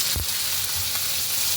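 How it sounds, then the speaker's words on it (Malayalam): Chicken frying in hot oil in a pan, a continuous bright sizzle with a brief stir or clatter near the start, close and steady with no talking. "ഫസ്റ്റിൽ ചിക്കൻ ആഡ് ചെയ്ത് കൊടുത്തിട്ട് അത് വറുത്തെടുത്തിട്ട്"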